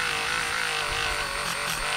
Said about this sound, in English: Now we're going to polish it with our wheel.